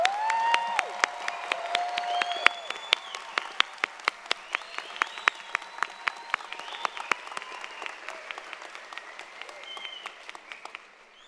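Commencement crowd applauding graduates, a sustained roar of many hands clapping with sharp individual claps standing out close by, while tonal sounds drift over it the whole time.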